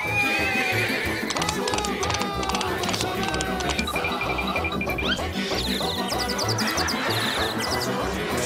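A horse neighs loudly several times over continuous clip-clopping hooves and a busy, noisy commotion, with voices mixed in at times.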